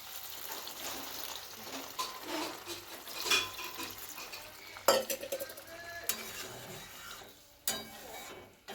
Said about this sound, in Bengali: এবারে অল্প করে জল দিয়ে দেবো